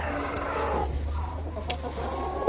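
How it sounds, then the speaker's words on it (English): Chickens kept in a pasture with a poultry fence and chicken tractor cluck close by, a steady busy murmur of hens with a few sharper calls and no talking. "Hello, chickens."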